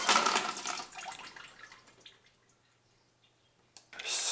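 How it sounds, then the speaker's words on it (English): Water and ice are dumped out of a chilled cocktail glass: a brief splashing pour with rattling ice fades to quiet, followed by a short clink and more splashing at the end. "Now I dump the water and the ice."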